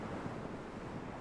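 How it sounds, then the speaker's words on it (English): Wind and choppy sea waves in the Microsoft Flight Simulator game at about 36-knot winds, a steady, dense roar of surf and gusting wind with no talk. "So we've got some real chop on the sea now,"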